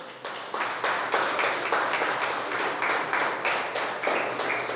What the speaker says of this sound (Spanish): Dale un aplauso a Dios por eso